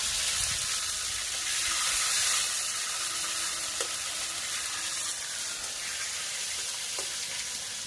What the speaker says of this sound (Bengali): এবারে দিয়ে দেবো ফোড়নের উপরে টমেটোটা।